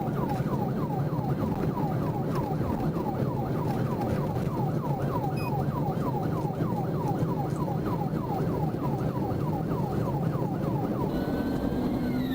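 A police car siren wails in a steady repeating cycle during a high-speed chase, loud and continuous, with road and engine rumble underneath throughout.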